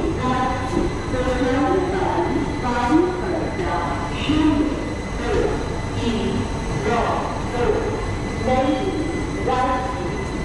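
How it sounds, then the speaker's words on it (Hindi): An Indian passenger express train arriving at Bareilly junction rolls in with squealing wheels and metallic rail screeches, loud and continuous, while voices talk over the carriage noise. "ट्रेन हमारी पहुंच चुकी है बरेली जंक्शन"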